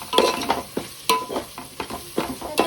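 Chicken biryani ingredients being stirred and mixed in a pan at home, giving repeated scraping and stirring strokes with a light sizzle, close and steady, with no talking.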